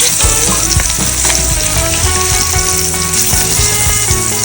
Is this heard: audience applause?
no